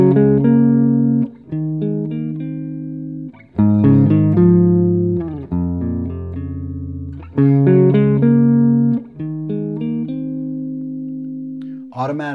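Guitar etude phrases played in turn at normal and soft volume, four sustained melodic phrases with clear rises and falls in loudness, close and alone with no talking.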